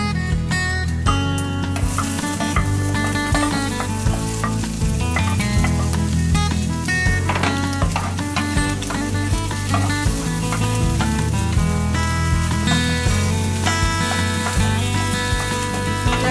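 Pineapple, cranberries and tomatoes go into a pan of healthy sticky, spicy and sweet fried rice, with frying heard under loud continuous background music throughout.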